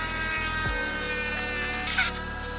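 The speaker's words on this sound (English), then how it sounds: "we're gonna drill a new hole above the original hole, just like this" A small power drill boring a new hole in a Marvel Legends action figure, a close steady high whine with a brief louder burst near the end.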